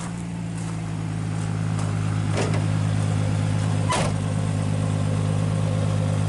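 A 1961 Dodge Lancer engine runs steadily in drive with a loud, even low hum. Two brief clunks or knocks break through partway in, and the engine note holds throughout.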